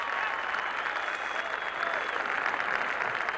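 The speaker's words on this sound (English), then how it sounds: "Taking the applause of the crowd," Golf spectators at Pebble Beach applaud continuously as a player walks up the 18th hole in the final round of the 1982 U.S. Open, a dense, steady patter of clapping heard from a distance.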